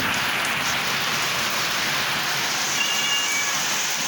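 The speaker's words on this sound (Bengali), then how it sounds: "বৃষ্টি হচ্ছে কিন্তু বৃষ্টি ভেতরের দিকে আসতেছে না, বৃষ্টি হলো বাইরের দিকে" Steady rain falls outside in a dense, even hiss of drops on surfaces, continuous and fairly loud with no breaks, heard from indoors.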